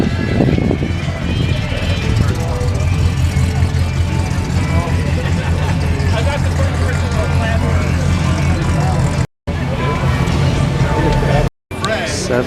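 A black Chevrolet Chevelle 454 rumbles past at a car show, its steady low engine drone loud and close, with crowd babble and voices throughout the scene.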